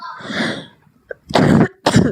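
Three rough coughs, close and loud, with brief pauses between them.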